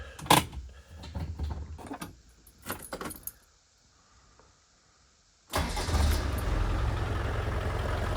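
Keys jangle and clatter near a 1998 Land Rover Defender 300TDI diesel, then after a quiet pause the engine cranks and catches, settling into a loud, steady idle that runs to the end.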